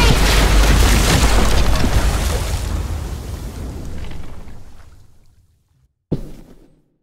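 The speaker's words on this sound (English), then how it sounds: "Shit, the bomb!" A bomb explodes in The Walking Dead: The Final Season, Episode 3, Broken Toys, with a loud, sustained roaring blast that slowly fades over several seconds, followed by a short silence and then a second sharp, brief impact.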